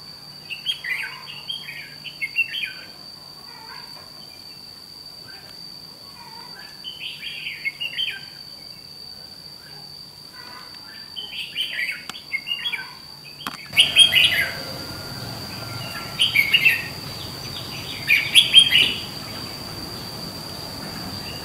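Red-whiskered bulbuls sing in short bursts of bright chirps and warbles, moderately near, repeating every few seconds, with a steady insect-like whine in the background and a rise in ambient noise partway through.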